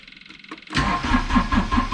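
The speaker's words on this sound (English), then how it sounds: "Engine turns over." A diesel excavator engine cranks briefly and then catches, settling into a loud, steady rumbling idle with rhythmic pulses.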